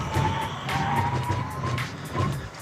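A 2018 Subaru Crosstrek braking hard in a braking test, with a sustained tire squeal and road roar that rises and falls over a couple of seconds, loud and close.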